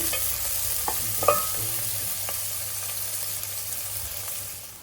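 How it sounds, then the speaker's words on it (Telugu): Onions fry steadily in a pan of oil for vegetable pulao, making a soft, even sizzle with a few light scrapes and clicks from stirring, close and unaccompanied by voices. "ఆనియన్స్ అయితే బాగా వేగాలి."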